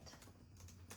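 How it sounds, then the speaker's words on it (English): Keys tapped on a computer keyboard at a quick, uneven pace, several close clicks in a short burst, soft and near, with a low steady hum underneath and no voices. "So let me type this up."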